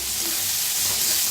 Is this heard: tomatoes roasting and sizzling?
yes